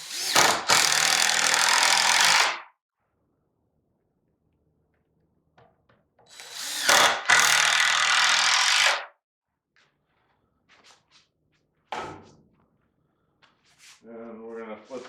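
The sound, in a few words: power drill driving 3-inch screws into pallet wood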